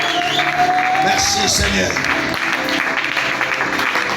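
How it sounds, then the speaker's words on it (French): Church congregation applauding and calling out in joyful acclamation during worship, a dense, steady wash of clapping and voices with someone speaking over it. "Adore Jésus avec les acclamations, avec le cri de joie."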